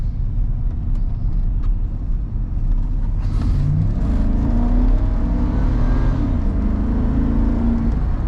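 A 1998 Chevy Tahoe 4x4 with a Vortec 350 V8 revs while driving, a steady loud rumble with rising throttle and deep intake tone, heard from inside the cabin with road noise and no talk.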